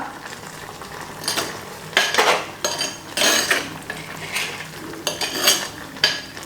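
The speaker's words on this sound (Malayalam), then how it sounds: "എന്നിട്ടൊന്ന് മിക്സ് ചെയ്യാം." A spoon stirs raw banana curry in a pot, giving repeated scraping and clattering strokes against the metal with a soft simmering sizzle between them, close and clear with no talk.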